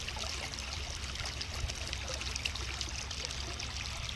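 Steady rushing water gushes from a pump outlet on a wheat farm, pouring and splashing continuously at close range, a broad hiss with no pauses or voices.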